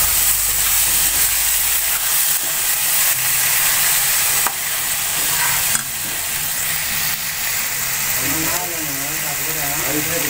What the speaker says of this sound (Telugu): టమాటీ వేగిన తర్వాత అల్లం వెల్లుల్లి పేస్ట్ వేసుకొని వేయించుకోవాలి